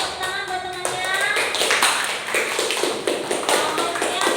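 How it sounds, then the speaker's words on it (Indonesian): A classroom of students claps for their classmates, a dense patter of many hands that starts partway in and keeps going steadily to the end, close and fairly loud, with some voices in the background. "beri tepuk tangan buat temannya"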